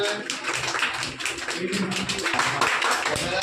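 An audience claps at a school quiz prize ceremony for ninth-grade students, with steady, dense applause running throughout at moderate loudness.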